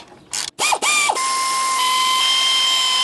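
Bolts on a steering box and track bar brace being run down by hand with a ratchet, a few quick loud ratcheting bursts giving way to a steady ringing whine, close and alone.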